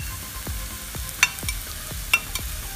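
Finely chopped capsicum and carrot are stirred and fried in a pan over sautéed onion, with a steady sizzle under rhythmic scraping strokes of a spoon about twice a second and a couple of sharp clinks.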